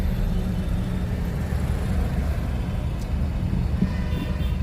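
Dense road traffic near Infocity on a hot day, a steady low rumble of passing cars and heavier vehicles, constant and fairly loud with no clear gaps.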